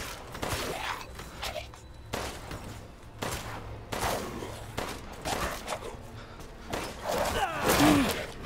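Gunshots in Resident Evil Village, a series of loud close shots at irregular intervals with brief gaps between bursts, joined near the end by a faint gasp.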